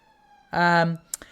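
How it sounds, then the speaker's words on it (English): An ambulance siren blares briefly in a single loud, steady tone, then cuts off, followed by a couple of faint clicks. "fucking ambulance"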